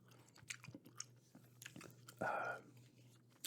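Close, soft wet chewing of gum in an ASMR-style recording, with irregular clicks and smacks between quiet spoken remarks and one louder rustling burst partway through.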